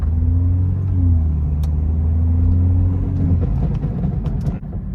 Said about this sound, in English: I'm gonna do a slight acceleration.